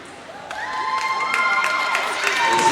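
Crowd cheering and applause at a high school senior night basketball game, a steady roar of voices swelling with scattered shouts and whistles that grow louder over a few seconds.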